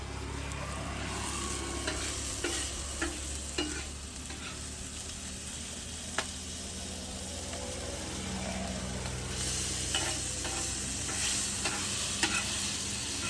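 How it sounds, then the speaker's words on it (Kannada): Pomfret fish frying on a tawa over a wood-fired stove at a roadside street food stall, a continuous close sizzle broken by repeated spatula scrapes and taps on the metal griddle. "ಸೌದೆ ಒಲೆಯಲ್ಲಿ ಮಾಡ್ತಿರೋದು ತವಾ ಫ್ರೈ."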